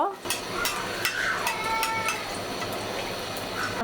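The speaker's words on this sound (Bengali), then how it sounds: "মরিচগুলো উল্টায়া পাল্টায়া উল্টে পাল্টে উল্টে পাল্টে একদম মচমচে ভেজে নিব" Chilies fry in hot oil in a pan while being turned over, giving a continuous sizzle with repeated sharp clicks and scrapes from the stirring utensil.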